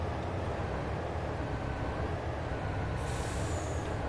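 A sugar cane truck in Farming Simulator 22 rumbles at a constant low idle, with a sharp hiss of air bursting in near the end, loud and close with no talking.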